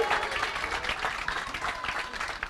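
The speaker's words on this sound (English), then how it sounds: "Some of them clapping." An audience at an IUIC Israelite religious gathering applauds in a steady patter of many hands clapping, moderately distant and fairly quiet.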